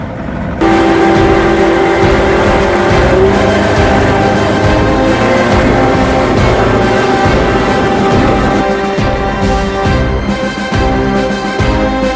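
A motorboat engine roars steadily right up close, with a droning hum and some tonal whine, running continuously without voices.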